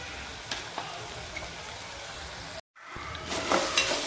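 Tomato and onion sauté in a pan with a little salt, a soft steady sizzle with occasional stirring scrapes, briefly cut off and then resuming slightly louder.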